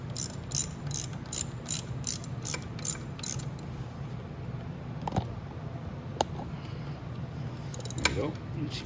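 A hand ratchet clicks in a quick, even series of close ticks, tightening the chain on a Venom E-Madix 1300W electric ATV, then falls quiet apart from a few scattered clanks over a low background hum.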